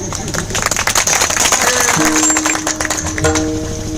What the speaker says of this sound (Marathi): एकदा टाळ्या वाजवा त्यांच्या.